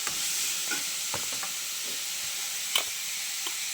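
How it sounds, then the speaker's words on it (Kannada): Garlic, tomato and onion frying in a pan, a steady bright sizzle with scattered scrapes and clinks of stirring, one sharper knock near the end, close and with no voices. "ಬೆಳ್ಳುಳ್ಳಿ, ಟೊಮೊಟೊ, ಈರುಳ್ಳಿ ಬೇಯಿಸ್ಕೊಳ್ತೀನಿ"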